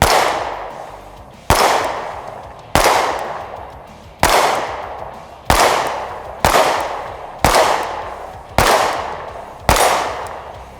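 Nine sharp, loud shots from a Springfield Armory Hellcat micro-compact pistol fired at a steady pace about a second apart, each crack followed by a short ringing decay; no talk.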